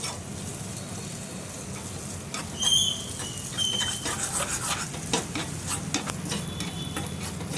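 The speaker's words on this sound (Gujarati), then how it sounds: "એકદમ સ્લો ફ્લેમ પર આપણે એને ઘીની અંદર શેકી લઈશું" Mawa roasting in ghee on a slow flame makes a soft, steady sizzle with a spoon scraping and clinking against the pan in irregular strokes nearby.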